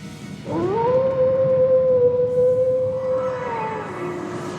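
A single long wolf howl in the video game Trails into Reverie, rising sharply and then holding a sustained, slightly wavering tone before fading out, loud and close.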